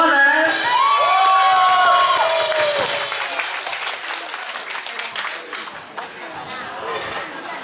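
Audience applause with cheering and whoops welcoming a drummer at a live band performance; loud clapping and shouts swell at first, then slowly fade, with a spoken introduction over the start.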